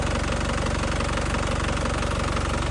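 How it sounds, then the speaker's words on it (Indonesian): A warmed-up 2011 Panther LS Turbo idles close by, its engine running in a steady, even rhythm of quick clattering knocks with no voices over it. "Ini kondisi mesin sudah panas ya,"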